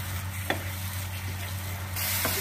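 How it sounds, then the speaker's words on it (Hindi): Onion-tomato masala roasting in a pan for Punjabi rajma, giving a steady, soft sizzle and hiss close by, with a couple of light stirring taps and a brief louder rise near the end; no voices. "इसको हम थोड़ी देर भून लेते हैं जब तक मसाला अच्छे से भुनेगा"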